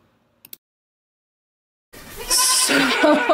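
Calves on a farm bleat loudly and close by in overlapping calls, starting after a couple of soft knocks and about two seconds of silence.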